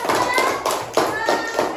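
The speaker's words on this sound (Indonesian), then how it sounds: "Oke, tepuk tangan dulu ya." Children in a classroom clap their hands in a few quick rounds, bright sharp bursts that rise and fall over a short span.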